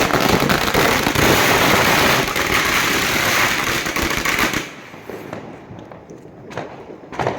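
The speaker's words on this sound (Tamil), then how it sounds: "நைட்டு கொஞ்சமாக கிராக்கர்ஸ் எல்லாம் வெடித்தோம்" Diwali firecrackers burst at night outside a home: a rapid, loud crackling barrage fills the first few seconds, then thins to scattered sharp pops and quieter gaps.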